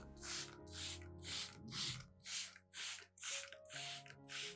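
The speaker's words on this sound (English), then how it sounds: "I gently mist the leaf surface and around the base of the plant" Spray bottle misting plant leaves in a steady run of short pumped bursts, about nine in a row, close and clear over a faint tonal background.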